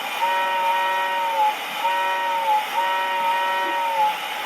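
A vintage toy train engine whistle sounds three times in a row, each a steady, slightly wavering tone held for about a second over a faint background hum.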